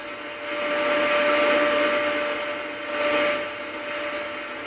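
Broadband hiss from a radio noise source fed through a 400 W antenna tuner on the 10 metre band, steady and fairly loud with a faint constant tone running through it, swelling and easing slightly as it is adjusted, with no talking.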